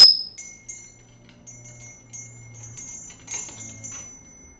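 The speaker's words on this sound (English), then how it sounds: "Pick up Tico's bell" A pet bird's small toy bell rings with a sharp first strike, then light scattered tinkles and jingles as it is moved about, close by and without talk.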